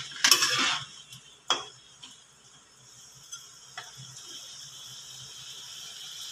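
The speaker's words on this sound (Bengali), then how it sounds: "তখন এই ভেজে রাখা ডিমগুলো এখানে দিয়ে দিচ্ছি" Fried eggs dropped into thick simmering gravy in a pan, an opening clatter and a couple of utensil knocks, then a quieter low sizzle with occasional soft taps.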